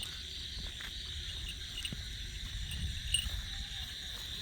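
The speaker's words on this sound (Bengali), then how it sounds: "ঝিঝি পোকা ডাকছে" Crickets chirping on a quiet night around an empty building, a steady high continuous trill with faint low background hum and no voices.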